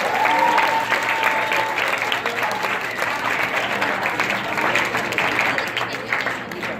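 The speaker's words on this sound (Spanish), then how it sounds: "Démosle un aplauso" A conference audience at a 45th-anniversary event applauds to welcome a speaker on fake news and media literacy, with sustained, even clapping from a sizeable room that holds steady for nearly seven seconds.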